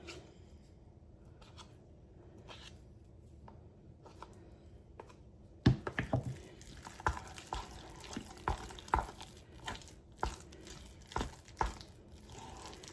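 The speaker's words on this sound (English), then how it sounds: "Now I'm going to stir these a little bit with a wooden spoon." A wooden spoon stirs a rough-textured cottage pie mixture of potatoes, giving a quiet start and then a run of close, irregular scraping and squelching knocks with no talk.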